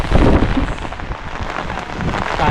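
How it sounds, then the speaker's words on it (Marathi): Heavy rain pours steadily during a stormy spell in rural Konkan, a dense continuous roar with low rumbling swells beneath it, loud and close throughout. "पाऊस बघा"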